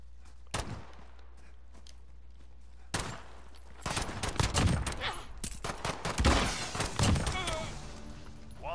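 Gunfire from a Call of Duty: Modern Warfare gunfight match crackles in irregular sharp bursts, some loud and close, with a voice talking over the later shots.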